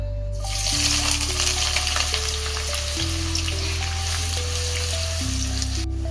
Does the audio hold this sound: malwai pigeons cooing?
no